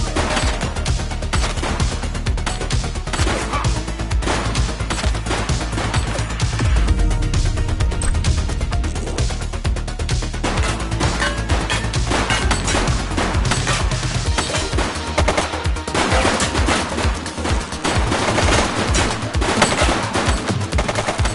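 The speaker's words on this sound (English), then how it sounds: "She's shooting!" Sustained, loud automatic gunfire from the police video game The Precinct, dense rapid bursts running almost continuously with crashes mixed in and no talking.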